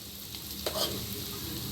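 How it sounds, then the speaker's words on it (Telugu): Cooked rice being stirred into a curry leaf paste in a hot pan, a constant close sizzle with one or two soft scraping strokes. "ఇందులోకి రైస్ కలిపేద్దాము"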